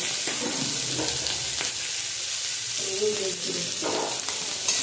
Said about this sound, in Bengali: এখন এটা একটু ভাজা ভাজা করে দিই।